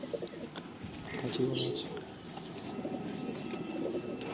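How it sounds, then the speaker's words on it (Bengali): A pigeon released into a cage coos softly and repeatedly amid fluttering and bird chatter, with faint background voices. "এই যে পায়রাটা আপনাদেরকে খাঁচায় ছেড়ে দেখাচ্ছি"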